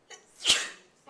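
One sharp sneeze, close and fairly quiet, with a short intake of breath before it and a faint breath after.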